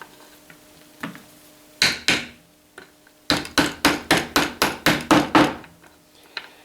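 Small wooden tapper striking burr puzzle pieces: two sharp knocks, a pause, then a quick run of about ten evenly spaced taps, close and loud.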